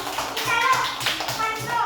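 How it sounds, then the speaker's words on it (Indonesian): Children clap their hands together in a small group, a quick run of light, uneven claps spread over about two seconds, mixed with children's voices talking and calling out over them. "Oke, tepuk tangan buat kita semua."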